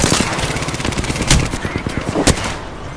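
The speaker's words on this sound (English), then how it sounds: "Shots fired." Rapid automatic gunfire from a weapon in the shooter game Apex Legends, loud and close, with dense bursts and a couple of sharper heavy shots standing out.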